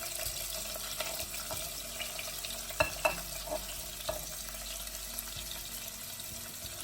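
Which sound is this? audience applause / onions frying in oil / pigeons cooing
onions frying in oil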